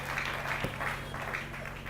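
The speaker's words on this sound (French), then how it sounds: "Applaudissez très fort pour le Seigneur." A church congregation applauding for the Lord, with a dense, steady wash of clapping that swells in loose rhythmic pulses over a constant low electrical hum, heard at moderate distance without clear voices.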